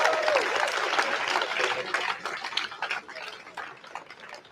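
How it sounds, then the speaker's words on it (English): Sustained applause from a crowd at an outdoor anti-war rally at the UN, dense steady clapping that holds for several seconds then gradually thins and softens, with a brief voice near the start. "I think that we should give him another round of applause."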